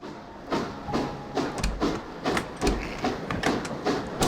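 Train carriage in motion in the video game The Last Express, with steady rolling rumble and rhythmic clacking thumps repeating about every half second, moderately loud and close, with no voices.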